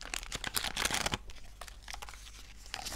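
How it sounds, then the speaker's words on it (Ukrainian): A small plastic packet is torn open and handled up close, giving a run of sharp, papery crinkles and rustles that peak in a dense burst midway, then settle into scattered softer crackles, with no voices. "Так, відкриваємо цей пакетик."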